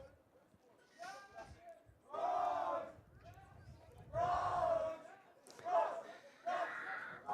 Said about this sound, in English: Jackson boys team, loud and verbal here, cheering on their squad